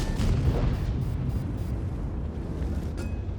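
A tank in World of Tanks fires a high-explosive shell, a deep, rumbling boom that rolls on as a low roar through the short stretch, with no talk over it.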